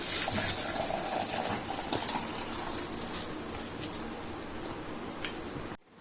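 Crab rasam, a spicy Tamil soup, is poured into a bowl as a steady close liquid splashing and trickling for about six seconds, then stops abruptly.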